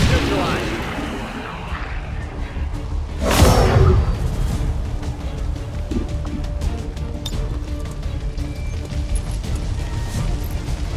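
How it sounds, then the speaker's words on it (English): A grenade blast in the video game XCOM 2, one heavy boom bursting a few seconds in and trailing into crashing debris and rumble, with game sounds continuing after. "czuję, że trzeba wykorzystać tak zwany granat teraz. Bombs away!"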